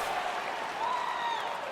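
Arena crowd in the UFC 4 video game applauding and cheering as a steady, fairly loud wash of sound for under two seconds, with no voices clearly on top.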